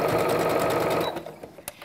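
A sewing machine on a zigzag setting stitches an applique onto a bag, running in a loud, close, steady buzz for about a second before stopping with a few small clicks.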